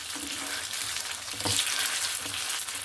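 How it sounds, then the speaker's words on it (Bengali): Steady sizzling of food frying in hot oil, close and continuous, with a brief stir or scrape partway through. "দু সাইড আমি সুন্দরভাবে একদম ক্রিস্পি করে ভেজে নিয়েছি"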